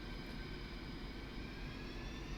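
Su-25 jet engines idling in a flight simulator game, a steady, fairly quiet rumble and hiss with a faint high whine, unchanging throughout with no talk.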